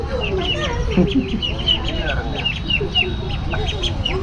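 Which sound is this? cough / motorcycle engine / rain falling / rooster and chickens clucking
rooster and chickens clucking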